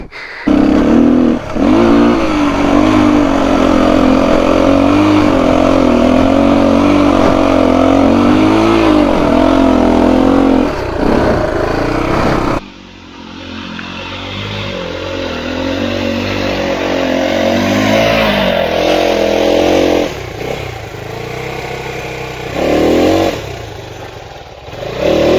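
A motorbike engine revs hard on a rough, steep uphill dirt track, loud and close, surging and straining in repeated bursts with rattling and clattering as the rider fights for grip.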